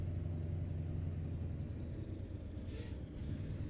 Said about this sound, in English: whenever you use the brakes and you have that air release sound